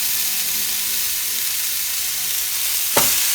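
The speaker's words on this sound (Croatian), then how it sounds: "grilujem tost, dakle stavljam ga tako" Toast in a home grill appliance gives a continuous soft sizzling hiss that holds steady throughout, ending in a brief sharp click or clatter near the end; no one speaks.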